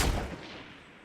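A single sharp gunshot from a SCAR rifle in the video game Fortnite, a loud crack with a quickly fading echo.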